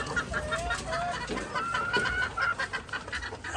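Chickens cluck steadily inside a farm coop, with overlapping close calls and a few higher drawn-out notes over a constant busy flock murmur.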